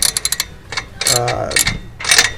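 A ratchet wrench tightens a bolt on a Dinan exhaust midpipe under a BMW M240i. A quick run of sharp, close clicks is followed by further bursts of ratcheting and metallic rattling.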